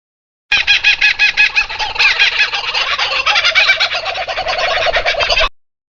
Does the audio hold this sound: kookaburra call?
yes